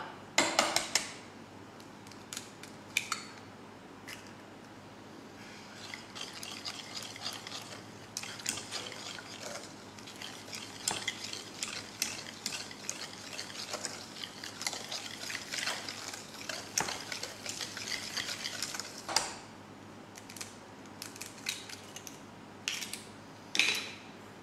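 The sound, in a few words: whisking eggs into chocolate brownie batter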